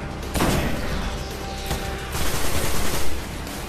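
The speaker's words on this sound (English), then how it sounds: "We're using an auto rifle, so it's your basic assault rifle equivalent," Sustained automatic fire from an auto rifle in the shooter Destiny, a dense rattling burst that starts near, pauses briefly, then returns loud and continuous through the end.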